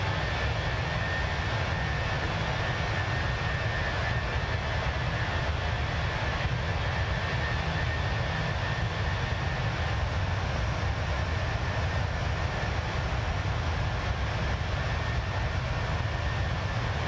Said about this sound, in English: Phoenix has the best A320 for Microsoft Flight Simulator.